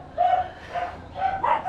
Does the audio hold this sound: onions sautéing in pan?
no